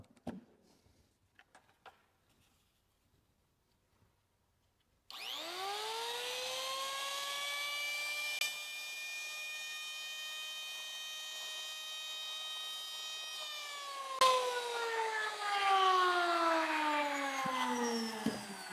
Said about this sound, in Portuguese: Primeiro, uma tupia laminadora. Essa tupia, 700 watts. Vamos ligar?